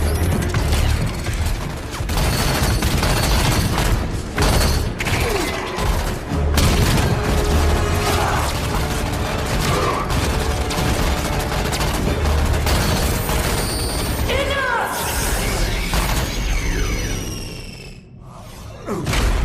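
Weapons fire fills a Halo video game cinematic: dense, continuous bursts of shots, booms and mechanical clatter with whooshing sweeps, loud and close, easing toward the end.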